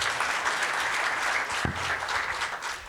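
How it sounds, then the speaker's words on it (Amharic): An audience at a women's award ceremony breaks into sustained applause, a dense, even wash of clapping hands heard up close for the whole moment, with no speech over it. "አጨብጭቡላት ለዶክተር።"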